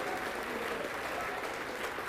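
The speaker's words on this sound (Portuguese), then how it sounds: "Vamos aplaudir mais, está chegando mais." A church congregation at a Paz e Vida service applauds continuously, a thick wash of clapping held at an even level for a couple of seconds.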